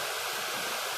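A rain-fed stream flowing through a natural outdoor spot, a steady broadband rush of moving water heard close and continuous with no voices.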